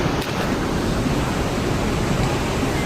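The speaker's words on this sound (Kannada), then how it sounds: "ಮಾರಿಕಣಿವೆ ಚಾನಲ್ ನೀರು ಬಿಟ್ಟಿದ್ದಾರೆ" Water released into the Marikanive canal rushes past as a loud, unbroken broadband roar, steady and close throughout with no voices.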